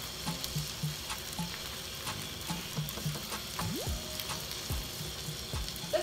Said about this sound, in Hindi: अच्छी तरह फ्राई करना है आपने।